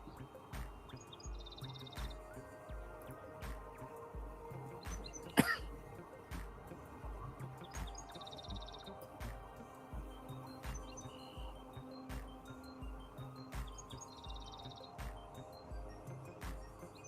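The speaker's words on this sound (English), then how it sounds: "I love hearing this bird chirping." Small bird chirps and tweets repeat in short bursts against a busy outdoor background, with one sharp click partway through.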